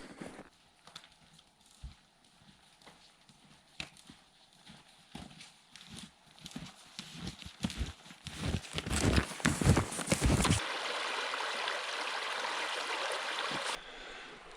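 Footsteps crunch irregularly along a hiking trail beside the Winter River on Prince Edward Island, then the river's loud, steady rush swells up and fills the last few seconds.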